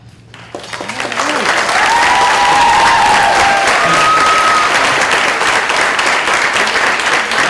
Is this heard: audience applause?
yes